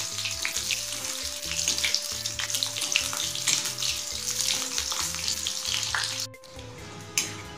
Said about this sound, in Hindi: इसमें हम परवल को पहले फ्राई कर लेते हैं।